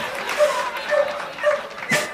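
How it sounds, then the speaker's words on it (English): A dog barks happily in several short, high yips with a near-regular rhythm, fairly close and loud against a quiet background. "Sounds like happy barking"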